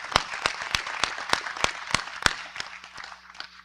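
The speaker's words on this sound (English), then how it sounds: "I think they deserve a big round of applause" Applause at a biodiversity summit, where a sparse group claps in a steady, evenly spaced rhythm at close range before the claps thin out and fade.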